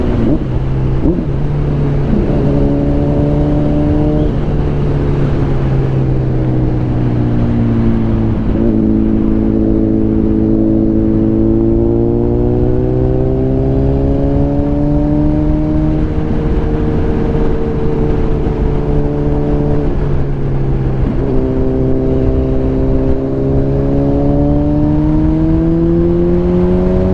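A Honda CBR1000RR sport motorcycle with a quickshifter accelerates hard through its gears, a loud, steady engine note rising in pitch again and again with quick dips at each shift, heard continuously and close throughout.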